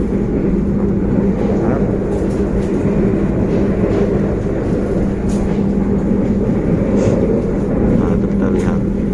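A passenger train runs on rails, heard from on board, with a continuous loud rumble and rattling of the carriage plus faint clicks and squeaks of the wheels, and no talking.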